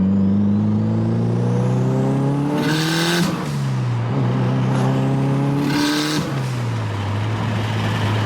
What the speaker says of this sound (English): all you hear is that wastegate